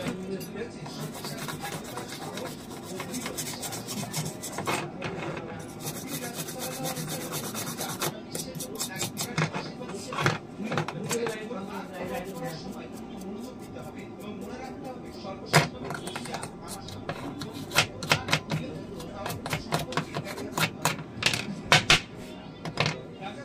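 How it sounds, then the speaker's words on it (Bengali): A digital scale's circuit board being scrubbed clean with petrol, giving rough rubbing and brushing strokes with scattered sharp clicks and taps that grow more frequent toward the end; someone talks at times. "সার্কিটটা সুন্দর করে একদম পেট্রোল দিয়ে পরিষ্কার করে নেবো"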